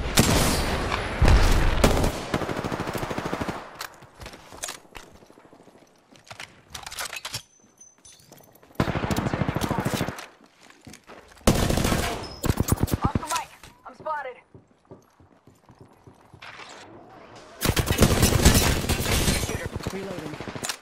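Video game gunfire from a shooter with care packages and Arcstars: bursts of rapid automatic fire and heavy shots come in repeated volleys, loud and dense, with brief quieter gaps and game voice callouts between them.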